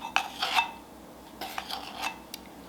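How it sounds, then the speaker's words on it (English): Flour and baking powder sifted together through a sifter, giving soft, close scraping and rustling in two short bursts, with a faint metallic rattle and no talking. "I like to sift all of my dry ingredients together"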